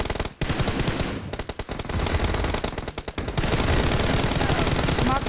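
Rapid automatic gunfire from the mobile game PUBG Mobile, dense bursts of shots with short gaps, loud and close throughout, with voice lines faintly underneath.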